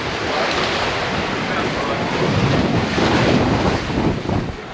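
An all-carbon catamaran on a broad reach under an asymmetrical spinnaker in the Yasawa Islands, with a loud, steady rush of wind buffeting the microphone over continuous waves and hull splash in about 11 knots of breeze.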